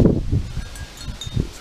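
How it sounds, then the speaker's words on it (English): Wind gusts outdoors on a cold, wet day buffet and rustle in low, uneven surges, fairly close, with no voices. "It's windy."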